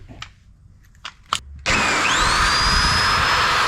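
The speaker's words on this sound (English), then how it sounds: "So I'm gonna go ahead and drill a pilot hole through the rest of the spot welds." A few clicks and taps, then a power drill kicks in loud and steady, its whine rising in pitch as it spins up and keeps running, drilling a pilot hole into a spot weld on a Nissan Gloria car body.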